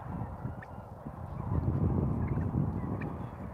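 Turkeys gobbling together on a turkey farm while grazing out in the cool air, a dense, continuous flock chorus of overlapping gobbles and clucks close by, growing louder midway.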